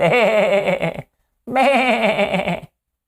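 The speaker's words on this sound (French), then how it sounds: "tu pouvais faire jouer des bruits de chèvre ou des bruits de pète." Two loud, wavering goat bleats, each about a second long, separated by a short silence.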